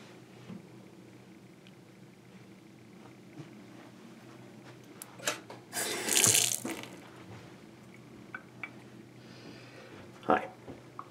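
A faucet runs briefly into a hotel room sink, a short hissing burst of water in a quiet room, with scattered small clicks and knocks around it.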